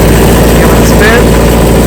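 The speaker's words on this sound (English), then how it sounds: "So we're gonna crank it up" A Kubota diesel engine on a pressure washer trailer runs as a loud, constant low rumble and drone, close by, with a faint voice underneath.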